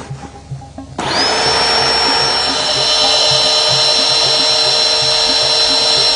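A resistograph drill whines steadily as it bores into a wooden utility pole at 45 degrees after a brief quieter start, a constant loud grinding tone holding for several seconds.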